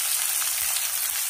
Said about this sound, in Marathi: टोमॅटो घालायचा भाजायला